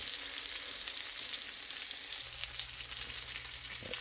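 Chicken fried cubed steak frying in a pan, a continuous, fairly quiet hiss of sizzling oil with fine crackle throughout, close and steady, no voices.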